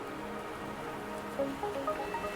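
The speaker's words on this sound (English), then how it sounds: "The rain won't last much longer." Rain falls steadily in the video game Wuthering Waves, a soft, even patter on surfaces with faint tonal chimes drifting in near the end.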